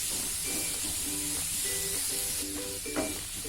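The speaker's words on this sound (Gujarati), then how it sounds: "આપણે 2 થી 3 મિનિટ સાતળવા દેશું" Vegetables sautéing in oil in a pan, with turmeric in the mix for a carrot, kohlrabi and chilli sambharo: a steady close sizzle and hiss with light stirring clatter and faint tonal hum throughout.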